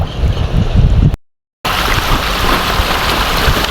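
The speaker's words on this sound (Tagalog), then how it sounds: "Ito po yung tubig ng Agos" Rushing water of the Agos river, running high and muddy after rain, makes a dense, steady roar close to the microphone, broken by a brief dropout before resuming just as loud.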